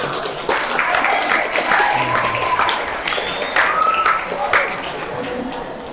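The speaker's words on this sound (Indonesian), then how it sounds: "Tepuk tangan yang challenge nih, bagus." Audience applause at a school orientation event for the new academic year, a steady wash of clapping hands throughout with voices heard over it.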